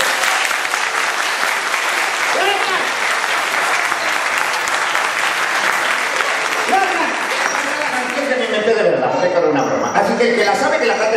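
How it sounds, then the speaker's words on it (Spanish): Long, loud audience applause, dense sustained clapping from a large crowd that fills the whole stretch, with voices and some laughter mixed in toward the end. "El aplauso tiene que ser bien largo y bien fuerte."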